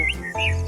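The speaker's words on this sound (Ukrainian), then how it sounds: "Так, малята, це спів пташок." Birdsong of migratory birds in spring, a few short chirps and whistled notes close by, loud and clear over a low steady hum, with no talking.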